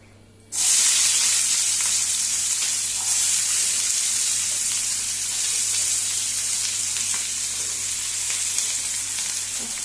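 Hot oil sizzles loudly in a pan as it is heated for cooking Goan-style chicken heart, a sudden burst of dense hissing that starts after a brief quiet moment and stays steady and close.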